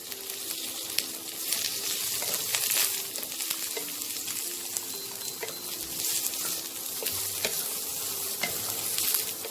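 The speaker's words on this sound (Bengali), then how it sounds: "পেঁয়াজটা হালকা ভাজা ভাজা হবে।" Chopped onions fry in a pan for a chicken stew, a continuous bright sizzle under frequent scraping and clattering strokes of a spatula stirring them.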